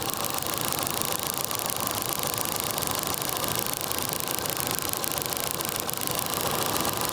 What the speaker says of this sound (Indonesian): mesin goyang-goyang dan suara di knalpot naik turun